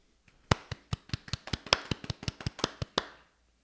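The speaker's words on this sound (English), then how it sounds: "Let's go ahead and clap it up." Roughly fifteen sharp hand claps in a quick, slightly uneven run, close and fairly quiet, ending abruptly with no voices.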